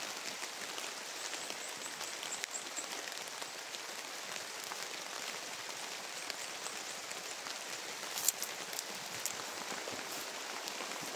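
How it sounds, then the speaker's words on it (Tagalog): Rain falls steadily over a cucumber garden, a soft continuous patter on surfaces with a few sharper drops near the end, unbroken and without voices. "Ulan na guys."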